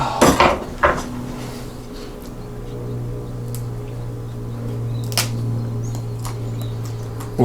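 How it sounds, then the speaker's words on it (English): A knife chops through a fresh horseradish root on a cutting board, giving a few sharp knocks near the start and another around the middle, set against a steady low background hum. "I'll chop some of it off."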